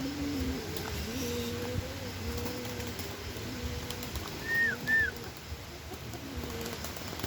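Racing pigeon hens coo in a loft, low repeated phrases rolling steadily and close, with a couple of brief higher bird calls partway through and no talking.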